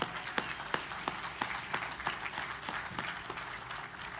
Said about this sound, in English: Big round of applause to industry making that happen.